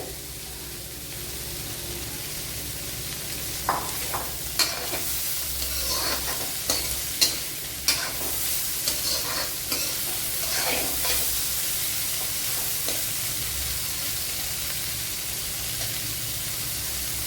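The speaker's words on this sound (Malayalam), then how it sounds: "കോവയ്ക്ക കുറച്ചൊക്കെ വഴണ്ട് വന്നിട്ടുണ്ട് അതിലേക്ക് ഇനി സവാള ഇട്ട്" Ivy gourd and onion sauté in a pan with a constant close sizzle, stirred by a spoon that knocks and scrapes irregularly through the middle, fairly loud with no voices.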